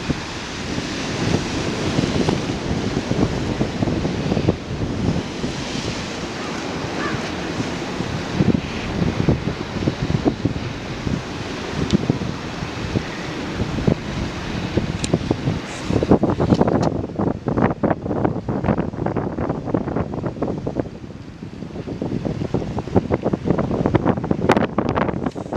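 Strong, gusty wind buffets the microphone over a continuous roar of ocean waves breaking on the shore, with loud surges and rumbling wash throughout.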